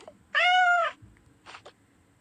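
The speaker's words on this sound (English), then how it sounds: "Yeah, my favorite cat." A cat gives one loud, close, drawn-out meow, then a few softer, short murmuring sounds follow.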